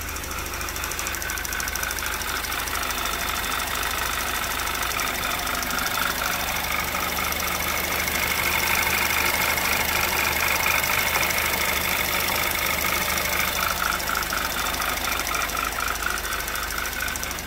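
A 2011 Audi TT Quattro with a 2.0T TFSI engine, recently repaired after engine damage, idles steadily, a close, continuous rattly hum with a faint ticking rhythm and no voices.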